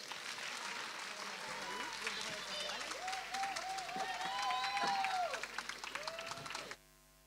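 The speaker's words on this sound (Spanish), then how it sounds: "Espero que os guste y un aplauso para ellos" An audience applauds a children's Christmas performance at a preschool in Miajadas: a fairly faint, steady clapping wash with voices calling out over it, which cuts off near the end.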